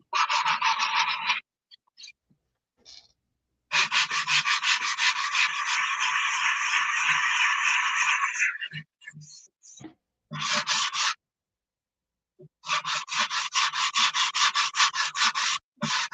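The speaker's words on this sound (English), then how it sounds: "your sanding's coming through loud and clear, Dan" A surface is sanded by hand with 80-grit sandpaper, giving loud, close, raspy scratching in long sustained runs. The runs are broken by short silences and a few brief scrapes, with no talking.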